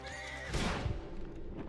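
A horse in Red Dead Redemption 2 gives a loud, close whinny that rises sharply and then trails off into a rough, shaking neigh, heard alone without speech.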